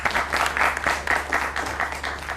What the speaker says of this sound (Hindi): ताली है जी।